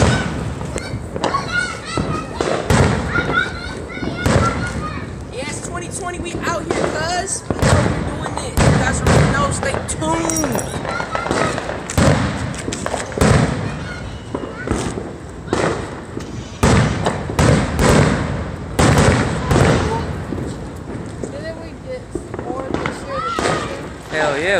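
Fourth of July family fireworks go off repeatedly, sharp cracks and booming thumps bursting in irregular clusters nearby and further off, with people talking and calling out between and over the blasts.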